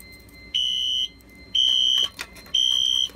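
A fire alarm tied into a security system, set off with a BG-12 pull station, sounds three loud, even electronic beeps about a second apart, each with a piercing high tone, close by and with no voices.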